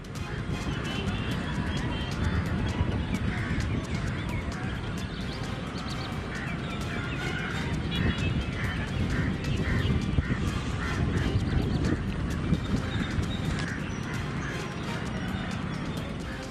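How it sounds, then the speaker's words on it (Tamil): A large flock of birds gathers to feed on the water of salt pans, a dense chatter of quacking and honking calls that carries on without a break. "குறிப்பாக உப்பளங்களில் உள்ள தண்ணீரில் இரை தேடுவதற்காக ஏராளமான பறவைகள் குவிகின்றன"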